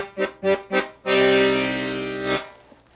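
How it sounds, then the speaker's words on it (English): A black Brandoni Piccolo piano accordion sounds its left-hand bass buttons: three short staccato bass-chord stabs followed by one long held chord, close and alone without talk. "On the left hand, the bass sounds like this."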